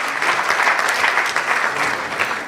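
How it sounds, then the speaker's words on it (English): A large audience at a national science and maths quiz championship launch bursts into loud, dense applause for a regional quiz master, a steady roar of clapping that holds throughout. "A round of applause."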